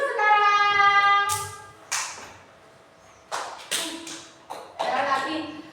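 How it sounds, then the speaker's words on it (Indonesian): Classroom students clap hands in several short bursts of sharp, percussive slaps, separated by pauses, with a voice speaking between the claps. "tepuk-tepuk dulu sekarang"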